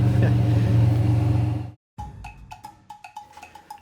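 A stock V6 Pontiac Fiero engine revs as a loud low rumble, cuts out abruptly, then gives way to a series of short sharp ticking and clinking bursts.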